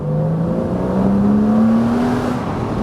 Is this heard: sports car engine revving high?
yes